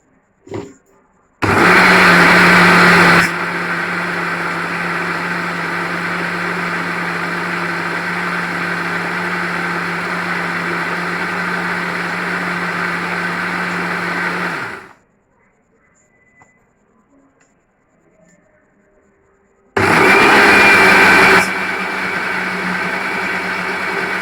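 A kitchen blender grinds ingredients into a paste in two loud runs, a short burst and then a long steady whir lasting about twelve seconds, stopping abruptly, followed by a quiet pause and another loud start.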